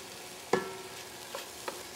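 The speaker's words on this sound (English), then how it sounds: "you just want to spoon your cooked barley into your mushrooms" Cooked barley spooned into mushrooms in a pan gives a soft scrape at the start, followed by two lighter clinks and stirs over a quiet background.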